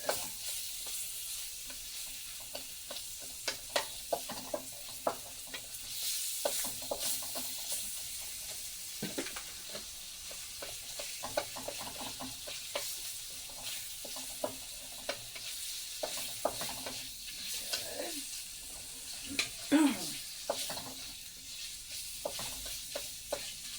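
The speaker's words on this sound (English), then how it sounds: "I'm going to cook the sausage until it's almost done and the onions are more done before I add the kale" Sausage and onions fry in a pan with a steady sizzle, broken by frequent scraping and clattering as a utensil stirs and breaks up the meat.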